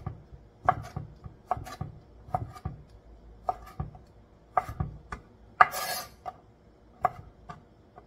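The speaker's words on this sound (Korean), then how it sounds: "당근도 채 칼로 썰었습니다" Carrots are cut into thin strips with a knife on a cutting board for mini kimbap. Crisp, evenly spaced chopping taps repeat about once a second, close and alone, with one brief scraping rasp partway through.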